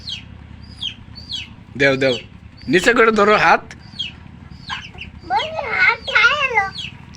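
Backyard chickens cluck and peep while pecking rice grains from a child's hand, short soft calls close by, interrupted by loud bursts of people talking.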